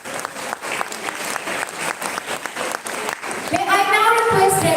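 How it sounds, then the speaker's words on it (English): An audience at a debate event claps steadily throughout, dense and fairly loud, with a voice rising over the applause near the end. "Let's have a big round of applause for all the participants in all categories."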